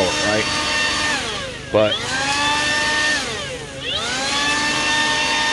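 A Makita 18V brushless cordless leaf blower runs loudly nearby with a high whining roar whose pitch drops and climbs twice as the throttle is eased and opened again, with a brief word spoken over it.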